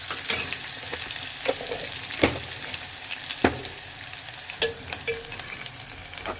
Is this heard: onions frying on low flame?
yes